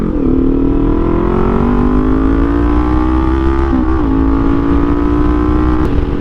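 A motorcycle engine on a short ride, droning steadily up close and loud, its pitch climbing slowly with a couple of brief dips and shifts around the middle, and no talking.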